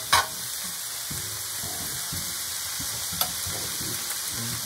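Collard greens sizzle steadily as they fry in a pan, with a constant hiss and repeated soft scraping and clatter as they are stirred, close and alone without talk.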